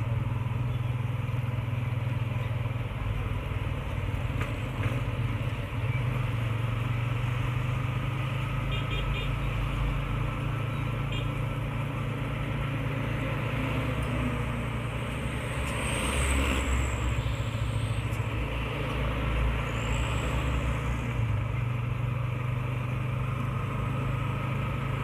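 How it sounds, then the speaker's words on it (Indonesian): City traffic in Muara Bulian, Batanghari, with big trucks and cars rolling past, a continuous low engine drone and rumble that swells at moments as heavier vehicles go by close, no talking. "udah banyak mobil-mobil besar juga"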